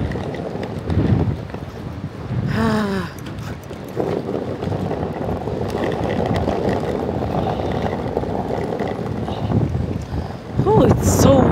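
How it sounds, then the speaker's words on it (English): Strong wind in London buffets the microphone with a steady, loud roar across the whole stretch, gusting harder near the end, while someone talks over it in bursts. "Oh, it's so windy."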